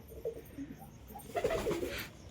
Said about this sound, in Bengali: মুড়ি খেতে খুব ভালোবাসে আমার পায়রা আর কি।